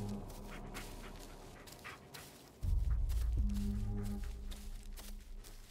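Dog in the Blair Witch video game whimpering and whining in short high yips, with footsteps and ambient game sounds, growing louder midway as a heavy low rumble kicks in.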